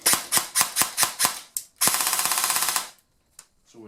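An airsoft AEG with a freshly built gearbox, loaded with 0.4g BBs, fires full auto. It rattles off a string of quick single cycles, then one longer sustained burst, loud and close, before falling quiet.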